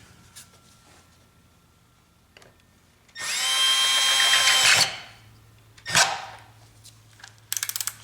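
A power driver tightens the air intake clamp on a Toyota Avalon 3.5L V6 in a loud whirring burst of about a second and a half, followed by a short second burst and a quick ratcheting click sequence.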